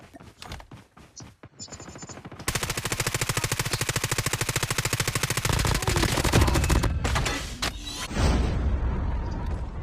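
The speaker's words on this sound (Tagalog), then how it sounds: "may bumabaril pa isa" Automatic gunfire in the mobile shooter Call of Duty Mobile: scattered single shots at first, then a long loud rapid burst of evenly spaced rounds, followed by heavier booming fire near the end.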